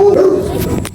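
A large dog barks, a single loud, close bark followed by a brief yip, with no talk over it.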